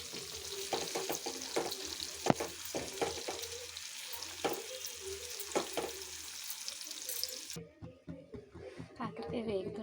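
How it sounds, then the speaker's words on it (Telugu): Bitter gourd (kakarakaya) frying in a pan for a spicy Andhra-style fry, a steady sizzle with scattered stirring scrapes and clatters, while a voice talks over much of it before the sizzle drops off near the end. "కాకరకాయ వేగుతున్నాయండి."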